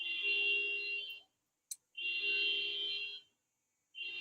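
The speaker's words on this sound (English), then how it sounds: "It's beeping." Electronic beeping in three long, loud bursts of a steady high tone, each lasting about a second, separated by short silences with one brief click between.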